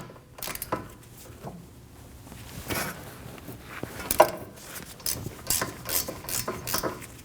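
A ratchet with a 12mm socket breaks loose the hub bolts on a 2011-2016 Kia Optima rear wheel bearing assembly, giving close, irregular clicking and grinding with scattered metallic knocks, no voices.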